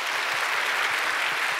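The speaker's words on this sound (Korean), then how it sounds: "우리 인사하실 때 박수로 환영해 주시길 바랍니다" A church congregation applauds to welcome new members, a steady wash of many hands clapping that holds evenly through the short moment with no voices standing out.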